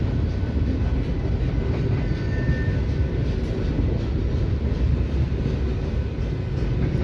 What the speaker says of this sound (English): Quadruple train meet here in Fremont.